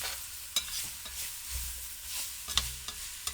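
Vegetables are stirred through a gumbo pot over the heat, with scraping utensil strokes and knocks against a soft background sizzle, close and alone.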